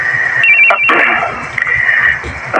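A cellphone ringtone rings during a call, a steady electronic tone with short gaps over a busy room.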